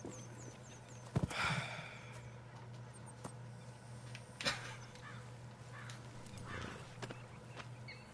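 Horse hooves clip-clopping at a walk in the Red Dead Redemption 2 video game, steady rhythmic thuds under ambient game sound, with a few louder knocks and faint background noise.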